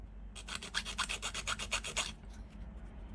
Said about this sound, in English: the sanding stick fits just in there